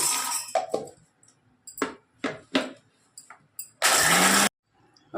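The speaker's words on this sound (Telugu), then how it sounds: "ఫస్ట్ ఇది మిక్సీకి వేసుకుందాము" An electric mixer grinder jar loaded with coconut, spices and masala gives a loud, short whirring burst after several knocks and clatters as the jar is handled, then stops abruptly.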